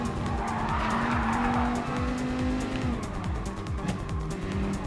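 In Gran Turismo Sport, a Gr.4 race car engine drones loudly during a daily race while tires squeal and skid in a sustained screech that rises then settles, with the engine revving underneath.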